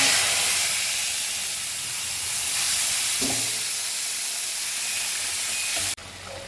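Spices frying in oil in a pan while cooking a tofu dish, a steady loud sizzling hiss that runs evenly, then drops sharply near the end.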